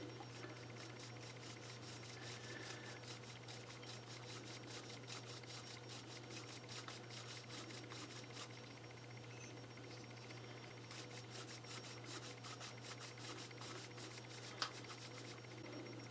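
An old, worn brush scrubs lightly over a styrofoam carrot, giving a quiet, rapid, steady bristly rubbing that runs continuously at close range over a low background hum.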